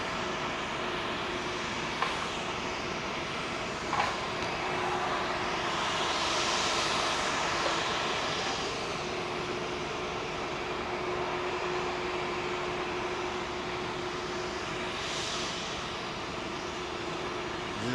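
Heavy Boston-bound airliner departing low off Heathrow runway 27L, a broad steady engine roar with a faint sustained hum, loud and close throughout with no talk.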